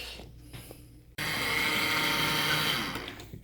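An electric ice cream maker's motor kicks on abruptly after a quiet moment and runs with a steady, high-pitched whirring hum that stays loud and close.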